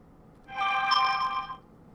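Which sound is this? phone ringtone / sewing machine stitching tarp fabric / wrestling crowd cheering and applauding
phone ringtone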